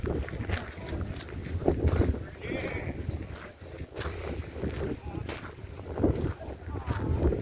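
Wind blows steadily outdoors at an old tool show, a continuous rough, gusty rumble buffeting the microphone throughout, with faint background activity underneath.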